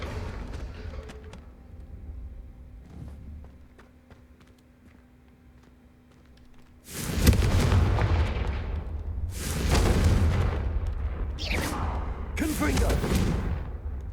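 Confringo spell blasts in Hogwarts Legacy striking candelabras: after a quiet stretch, a series of loud booming bursts and crackling fiery impacts follows, several in a row, under spoken voices.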